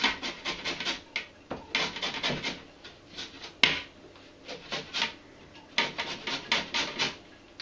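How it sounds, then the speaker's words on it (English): Lemons scraped against a grater for ginger beer, a series of short rasping strokes in uneven bursts, close and fairly quiet, with one sharp click partway through. "So 2 lemons, going to grate these and then squeeze them in."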